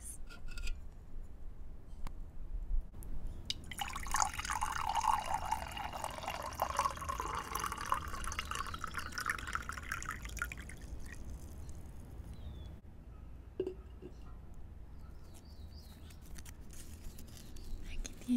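Water pours into a small glass during a soft-spoken beach club role-play, a close, hushed gurgling trickle that goes on for several seconds, with quiet voices around it.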